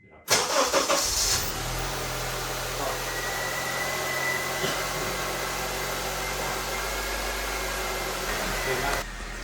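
A 2004 Honda CR-V engine cranks and catches, then settles into a steady idle hum that runs for several seconds before cutting off near the end.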